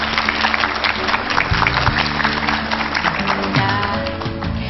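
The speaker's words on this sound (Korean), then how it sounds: "큰 박수로 모시겠습니다." Audience applause greets a guest speaker at a televised Korean science lecture, a dense, steady wash of clapping with low musical tones underneath throughout.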